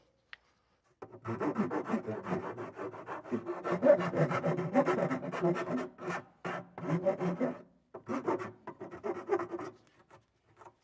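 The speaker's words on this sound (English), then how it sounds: "We're going to file these edges smooth." A file rasps back and forth over the cut edges of a Harley-Davidson Road Glide speaker lid in a series of close, uneven strokes with short pauses between bursts, and no one speaks.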